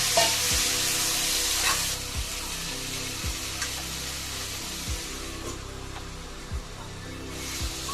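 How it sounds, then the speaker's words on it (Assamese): Beans frying in a pan with potato and carrot, a steady hissing sizzle with a louder burst at first and soft periodic stirring scrapes, close up. "এতিয়া মই এই বিনখিনি আলু আৰু গাজৰৰ লগত একেলগত ঢালি দিলোঁ।"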